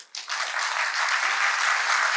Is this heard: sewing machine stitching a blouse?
no